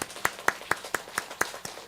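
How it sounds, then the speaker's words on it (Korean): Church congregation at a Sunday thanksgiving service clapping together in unison, about eight sharp, evenly spaced claps in a steady rhythm, clear and close. "우리 박수로 축복해드리겠습니다."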